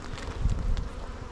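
Honey bees buzzing during a beehive inspection, a dense low drone of many wings, close and steady with slight gusty rustle.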